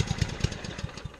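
A Honda HRU196 lawn mower engine starts up on a cold day, giving a close, loud, rhythmic chugging with regular firing pulses that settles into a rough running beat; no one speaks.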